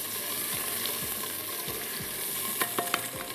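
Chicken and onions fry in a pan as garlic ginger paste goes in, a steady sizzle broken by stirring scrapes and a few sharp clatters near the end.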